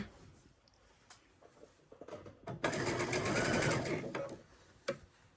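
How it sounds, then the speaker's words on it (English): A sewing machine stitches a sweater seam in a short back-and-forth burst, a close, fast whirring run of about a second and a half after some quiet handling clicks, with no talk. "I'm going to back stitch, and then I'll start sewing"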